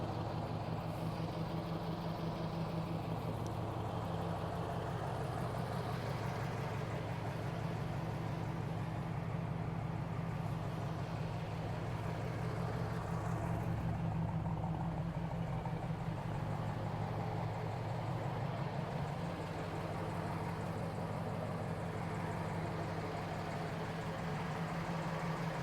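A 1970 Camaro Z28, highly original and off the road since 1980, idles with a steady, low engine rumble that holds evenly throughout at moderate distance, with no talking.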